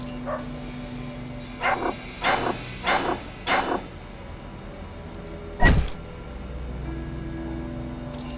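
Dogs in the video game Underrail bark in a run of four short, evenly spaced yelps, followed by a sharper thump and a quieter stretch of background sound.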